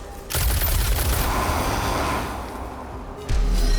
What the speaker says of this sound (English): Utilize my pistol.